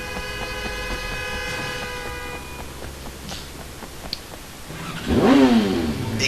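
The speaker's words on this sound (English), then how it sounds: "I suck at driving a motorcycle." A motorcycle engine in the video game Sleeping Dogs hums along under horn-like tones, then surges into a loud rising rev burst near the end.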